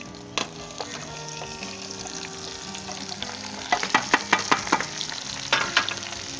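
Potatoes, green chilli and brinjal frying with turmeric and cumin give a steady sizzle, joined later by a series of sharp scraping and stirring knocks from a spoon against the pan.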